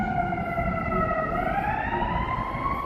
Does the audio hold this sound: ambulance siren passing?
yes